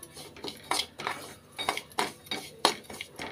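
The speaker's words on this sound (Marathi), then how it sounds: "आणि थोडंसं आता भाजून घेते." Spoon scraping and clinking against a pan while something is dry-roasted slowly over a very low flame for a Mahalakshmi puja offering, in irregular bursts of close, clattering stirs.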